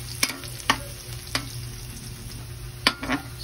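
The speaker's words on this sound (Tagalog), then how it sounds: "Medyo papulahin lang natin yung bawang." Garlic fries in a pan for chaw fan with a low, constant sizzle, broken by a few sharp clicks of a utensil scraping and stirring.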